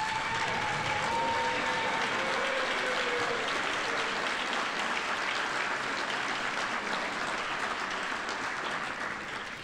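An award ceremony audience at a business school gives a long, sustained round of applause, dense and even from start to finish, fading slightly at the close.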